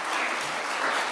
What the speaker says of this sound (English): let's give a hand clap to our fabulous